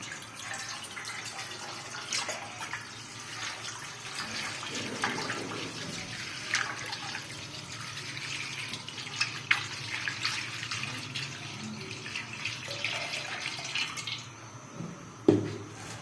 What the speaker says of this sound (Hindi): और एक जग इसमें पानी का डालेंगे।